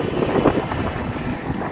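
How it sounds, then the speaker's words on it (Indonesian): Strong wind roars and buffets a microphone during a group road cycling challenge around a loop at PIK2, a loud continuous rumbling whoosh with no speech. "anginnya gede banget"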